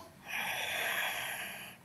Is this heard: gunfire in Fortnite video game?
no